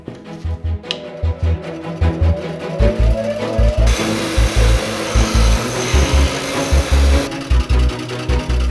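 Saw cutting through foam for the core of a carbon fiber Buster Sword replica, a loud rhythmic rasping with repeated strokes, steady and close throughout.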